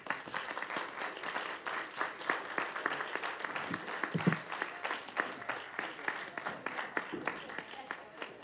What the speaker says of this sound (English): can we keep the applause to the end?